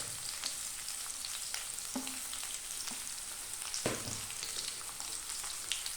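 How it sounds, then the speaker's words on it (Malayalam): A medium-sized chopped onion frying in hot oil for egg masala, giving a faint, even hiss broken by a few soft knocks from stirring. "അതിനുശേഷം അതിലേക്ക് 1 സവോള, ഒരു മീഡിയം സൈസ് സവോള അരിഞ്ഞത് ഇടാം."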